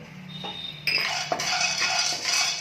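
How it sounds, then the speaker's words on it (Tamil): White chickpeas being dry-roasted in a pan, the hard seeds clattering and rattling against the metal in bursts as they are stirred, fairly close with no talking. "அடுத்தது வெள்ளை மூக்கடலை ஒரு இருபத்தஞ்சு கிராம் வறுத்துக்கோங்க"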